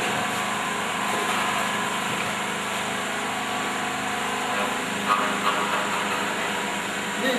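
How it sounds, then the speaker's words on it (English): A filing machine in a shoe-making workshop rounds and smooths the edges of shoe soles, producing a constant motor drone with a grinding hum and a couple of faint knocks near the end. "filing the edges of the sole round with our filing machine"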